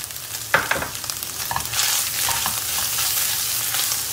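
Tomato paste sizzles and fries with onions in a pan, a close, continuous crackling hiss broken by a few scraping stirs near the start.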